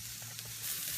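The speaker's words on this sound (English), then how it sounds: "I added onions, celery, and carrots to the hot oil, and then we're just going to let that cook" Onions, celery and carrots sizzle steadily in hot olive oil, a continuous close, moderate crackle that swells a little louder toward the end, with no talking.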